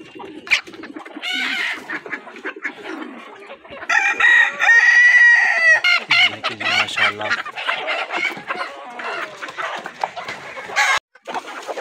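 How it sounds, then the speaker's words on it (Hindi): Chickens squabble on a golden Misri hen farm, a busy mix of clucks, squawks and a drawn-out crowing call, with young chicks being chased among the flock; loud and close, with no talk. "अभी ये देखें कितने लड़ रहे हैं मुर्गी के"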